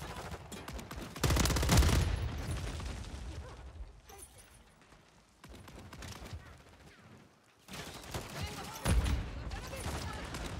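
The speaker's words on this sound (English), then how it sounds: "that dude just fucking blasted me with a pistol" Pistol gunfire in a video game comes as loud, dense bursts of shots in two main stretches with a quieter gap between, while a voice talks over it.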